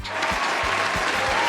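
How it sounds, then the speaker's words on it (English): A crowd gives a loud, dense round of applause for a women's volleyball league's season highlights, a continuous roar of clapping with faint low thumps pulsing underneath. "Let's give them all a round of applause."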